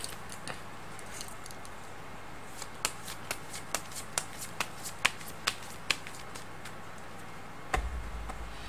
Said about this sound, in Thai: เดี๋ยวจะมาเสี่ยงไพ่ดูให้เพิ่มเติมนะครับ